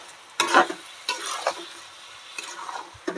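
Washed rice and spices are stirred in a pot over a village cooking fire for chana dal khichdi: three or four scraping strokes at intervals, each with a brief sizzle, close and fairly loud.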